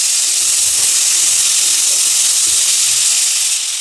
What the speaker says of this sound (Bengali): এগুলো আমি ভেজে নেব